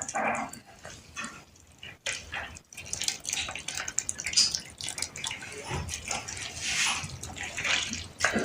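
Herbal juice of Bermuda grass (arugampul) and banana being poured, a steady, close liquid splashing and trickling with scattered drips and some background noise.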